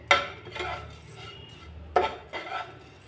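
A spoon scrapes and clinks against a pan while grated coconut and sugar are stirred together, with two sharp metallic knocks over a low, quiet kitchen background.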